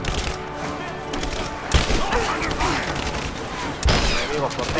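Gunfire rattles in Rise of the Tomb Raider, bursts of shots and sharp cracks over a busy, noisy battle background, with a couple of louder impacts standing out.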